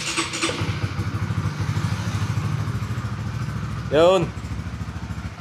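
A Honda Winner X underbone motorcycle engine idles in neutral with a steady low rumble throughout, close by, while people talk over it and a brief voice exclamation cuts in near the end.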